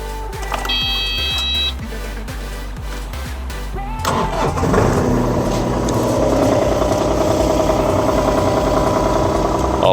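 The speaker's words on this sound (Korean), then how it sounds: "굉장히 엔진 소리도 지금 깔끔하고" A used Kubota mini excavator's diesel engine cranks and starts after a few seconds of clicking and rattling, then settles into a loud, steady idle with a rumbling chug.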